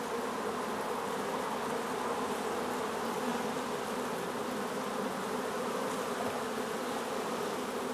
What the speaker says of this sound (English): Active bees.